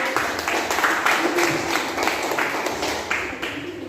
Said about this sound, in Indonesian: Oke, dari kami tepuk tangan dulu.